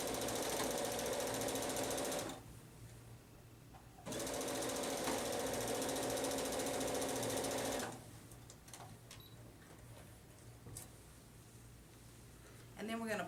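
A sewing machine stitches across fabric pieces for an Easter embroidery project, running in two long steady bursts with a short pause between, then stopping while a person talks quietly.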